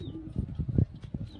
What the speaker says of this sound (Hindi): और बाकी ये सारे कबूतर हैं